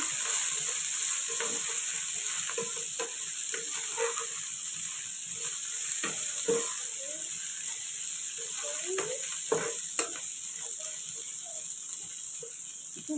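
Chicken biryani masala with cashews fries in a pan over low heat, giving a steady close sizzle with scattered pops and soft scraping stirs throughout.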